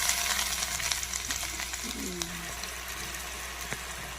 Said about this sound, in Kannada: ಎಣ್ಣೆ ಕಾಯ್ದೈತಿ ಅದಕ್ಕೆ ಸಾಸಿವೆ ಹಾಕೊಂಡು ನೋಡಿರಿ